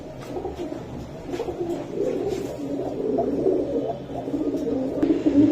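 Giribaz pigeons coo steadily in low, throaty rolling calls, close by, continuing throughout with no talking.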